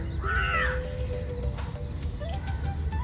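A bird near a river gives a loud, harsh cawing call as it takes off, then the outdoor background stays steady with a few faint distant chirps.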